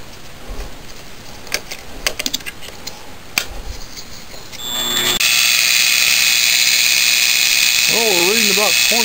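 A Grizzly G0704 milling machine fitted with a 4700 rpm mod winds up after some tapping and handling noises. The spindle settles into a steady high-pitched whine with a loud hum beneath it, close by, and a voice is heard faintly near the end.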